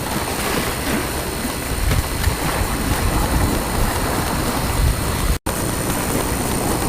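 Wind and sea waves at a rocky fishing spot on Yokjido island off Tongyeong, a steady, loud broadband wash of surf and gusting wind across the whole stretch with a single very brief dropout, and no voices.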